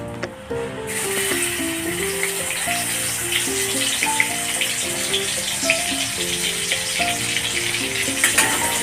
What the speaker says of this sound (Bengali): এখানে পেঁয়াজটা ভাজা ভাজা হয়ে গেছে